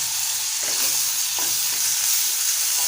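Chopped tomatoes with salt sizzle steadily in a hot oiled pan, a continuous bright frying hiss broken by a few soft scraping stirs.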